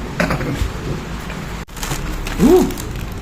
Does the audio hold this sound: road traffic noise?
no